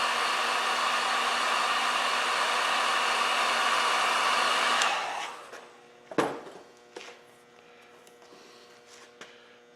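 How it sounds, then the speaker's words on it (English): Heat gun shrinking heat shrink tubing, a loud steady blowing roar for about five seconds that cuts off, followed by a few clicks and handling knocks in near quiet. "Then we'll take our heat gun and watch it go shrinky-dink."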